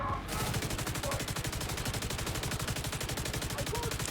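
A Stoner machine gun in a shooter video game fires one long unbroken burst, the rapid, evenly spaced shots loud and close from start to finish.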